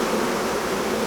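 Dense, steady buzzing of honey bees swarming around an open hive during a midsummer inspection, a continuous close drone with no pauses.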